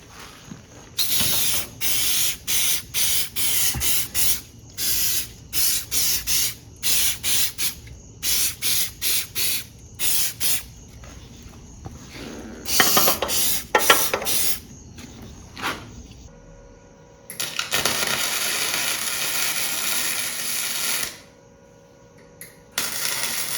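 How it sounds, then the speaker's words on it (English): Anti-spatter spray hisses onto a V8 go-kart axle before welding, in many short bursts of close, loud hiss with silent gaps between them, then one longer spray near the end. "I'm gonna spray a little spatter spray just so the axle doesn't get a bunch of spatter on it."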